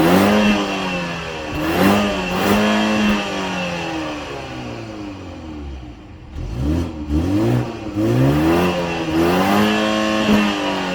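A BMW 330e hybrid family car revs and accelerates, its engine climbing in pitch through several rising sweeps, easing off midway and then pulling hard again, loud and close with no talking.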